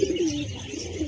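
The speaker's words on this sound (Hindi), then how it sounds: "वो इटकरी कलर के जो होते हैं ना लाल वाले कबूतर" Pigeons coo in a loft where a red chick has hatched, one low, throaty coo rolling close and loud, then fading into a softer murmur.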